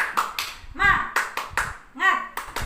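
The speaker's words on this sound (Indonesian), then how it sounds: "kita tepuk semangat dulu ya anak-anak" Rhythmic 'tepuk semangat' spirit clap led by a female teacher for young schoolchildren: clear hand claps in a steady pattern, broken up by a voice chanting between the claps.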